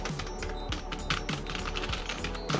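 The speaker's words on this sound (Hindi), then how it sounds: "आवाज़ आ रही है कीबोर्ड की।" Keys clatter in quick, close succession as someone types on a Lapcare computer keyboard, a crisp run of light clicks and taps with no speech.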